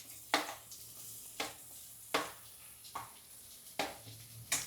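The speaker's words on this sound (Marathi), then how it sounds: "त्याला मस्त सॉटे करून घेऊ." Chopped onion sautéing in a pan for an egg dish, a soft sizzle with about six regular spatula scrapes and stirs, fairly quiet with no talk.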